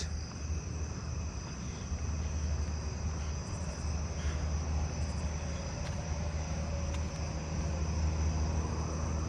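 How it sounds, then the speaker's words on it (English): A southeastern field cricket chirps within a steady nighttime insect chorus of high trills, while a low vehicle-like drone builds gradually in the background. "Southeastern field cricket."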